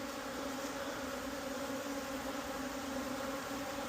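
Honey bees hum in a steady, dense buzz around an opened hive while a brood frame is lifted out in an apiary. The drone is close and continuous, with no voices.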